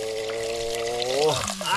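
Water poured into a pot of simmering tinola soup cooking outdoors beside a stream, a steady splashing pour under a voice talking close by.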